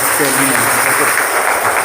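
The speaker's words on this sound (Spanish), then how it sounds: "Damos un fuerte aplauso al Señor" Church congregation applauding after a call to praise, a broad steady wash of clapping throughout, with a voice speaking briefly over it.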